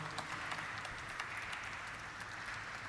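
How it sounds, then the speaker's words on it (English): An audience at the Ceigall India Limited stock listing ceremony claps in a soft, distant, continuous round of applause with scattered individual claps. "A nice round of applause, ladies and gentlemen"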